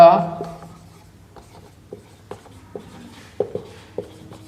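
Pen or chalk writing out an equation on a board or paper gives a series of short, soft scratches and taps, spaced irregularly after a brief voice at the start.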